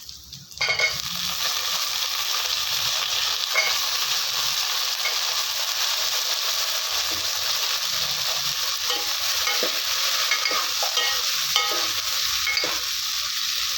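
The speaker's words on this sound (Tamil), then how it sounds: "நான் வந்து ரெண்டு முருங்கைக்காய் ரெண்டு கத்திரிக்காய் சேர்த்துருக்கேன் இது எண்ணெயிலேயே வந்து ஒரு ஒரு நிமிஷம் வதக்கி விட்டுருங்க" Drumsticks and brinjal sauté in hot oil in a village-style kitchen, a loud, steady sizzle that starts abruptly as the vegetables go in, punctuated by stirring scrapes and light knocks, heard up close.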